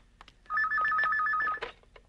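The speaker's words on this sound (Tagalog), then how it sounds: "Oh, telepono." A telephone gives a single clear electronic ring burst lasting about a second, with quiet room sounds before and after and no talk.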